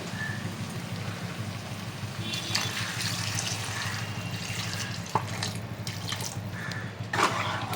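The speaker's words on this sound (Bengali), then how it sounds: "এরপর এর মধ্যে দিয়ে দেবো পরিমাণ মতো গরম জল" Hot water poured into a pot of mutton curry with fried potatoes, a steady close splashing pour running throughout with a few brief clinks near the end.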